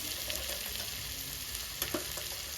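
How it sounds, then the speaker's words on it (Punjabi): Tomatoes frying with spices in a pan, a steady close sizzle running throughout with a couple of brief stirring clatters near the end. "ਟਮਾਟਰ ਸਾਡੇ ਵਧੀਆ ਤਰੀਕੇ ਨਾਲ ਭੁੱਜ ਗਏ"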